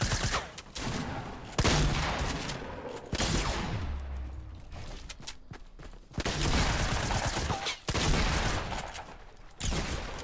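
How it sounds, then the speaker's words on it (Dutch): Gunfire in the Fortnite battle royale game, bursts of rapid shots and booms filling the mix continuously with brief lulls, loud and busy. "Ik hoor nog meer schoten."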